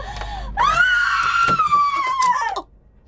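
A woman's long, loud scream in a Filipino horror audio drama about an aswang, rising sharply and holding for about two seconds before cutting off, with faint background sounds around it.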